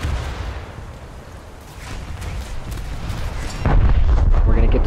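Bombs detonate against a warship in War Thunder naval combat, rumbling heavy booms that build over a few seconds and end in a loud, sustained deep blast, with a voice partly heard under the explosions.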